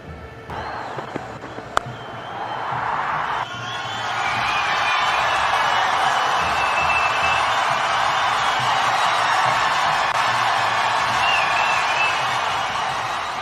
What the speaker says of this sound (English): The Indian crowd are buzzing around now.